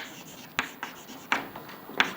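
Marker or chalk strokes on a classroom board, three or four short scratchy writing bursts spaced about half a second apart, fairly close and alone with no talking.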